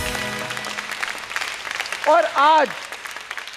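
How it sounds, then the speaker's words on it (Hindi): Studio audience clapping on a talk show, heard under a host's speaking voice, which rises over the applause toward the end. "रजिया के लिए तालियां।"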